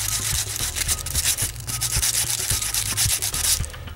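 Brisk hand sanding with sandpaper, a rapid run of close, rhythmic scratchy strokes that continues steadily for several seconds with no talking.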